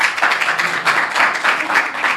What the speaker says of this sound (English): I love the sound of the clapping